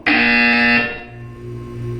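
A loud, steady electronic buzzer from the Portal 2 video game sounds for about three-quarters of a second, then drops to a quieter lingering hum and tone that carries on to the end.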